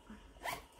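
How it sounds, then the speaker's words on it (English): A zipper on a handmade sewn unisex bag zips once, brief and faint, peaking in a single quick pull. "Zip it up."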